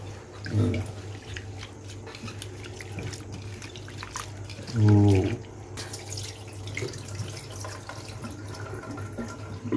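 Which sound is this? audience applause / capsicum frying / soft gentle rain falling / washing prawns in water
washing prawns in water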